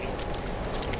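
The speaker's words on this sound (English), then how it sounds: "Definitely rains hard there when it rains." Heavy rain during a storm in the video game No Man's Sky, heard as a dense, steady hiss of downpour, loud and continuous, with no talk over it.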